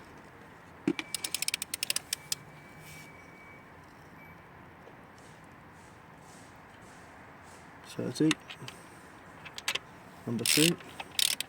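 A torque wrench tightens cylinder head bolts during a head gasket replacement on a Toyota Supra mk3, giving sharp metallic ratcheting and clicks in short bursts, with someone talking.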